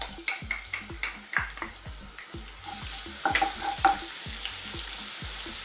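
Garlic sautéing in hot cooking oil in a wok crackles and sizzles steadily, with repeated scraping stirs and clinks of the spatula close up.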